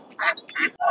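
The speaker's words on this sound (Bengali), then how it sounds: "এখানে দাদা প্রচুর হাঁস এনেছে" Ducks at a rural poultry market in the Sundarbans give three loud, close quacks in quick succession, each one a short, nasal burst.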